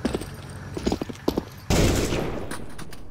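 Video game gunfire crackles in scattered shots, then a dense sustained burst of automatic fire starts abruptly midway and continues loud to the end.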